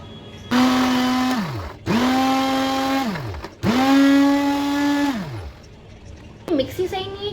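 A kitchen mixer grinder that is not grinding properly, grinding vada pav ingredients, runs in three loud bursts, each whining up and winding down with a falling pitch, separated by short pauses, before a brief rattle near the end.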